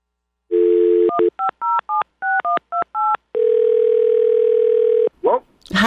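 A telephone dial tone followed by a quick series of touch-tone keypad beeps at uneven spacing, then a long steady ringback tone, loud and close, with a voice starting briefly at the end.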